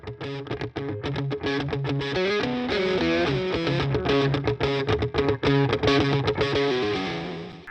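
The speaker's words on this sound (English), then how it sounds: "Next up, we're going to show you an analog delay." Distorted electric guitar plays a rhythmic riff of repeated notes, each echoing through an analog delay effect in Line 6 Pod Farm 2 Platinum, loud and continuous.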